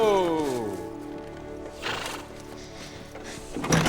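A horse gives a clear, falling whinny near the start, followed by softer horse sounds and possible hoof clops, all heard beneath people talking in a festive Christmas setting.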